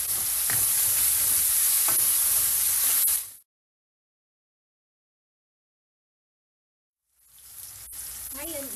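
Chopped onion and tomato sautéing in a hot pan for a Filipino ampalaya con carne, a steady broadband sizzle with light stirring, then dead silence for several seconds before the frying hiss returns.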